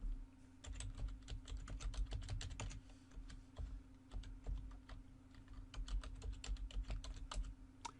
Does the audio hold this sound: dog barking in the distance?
no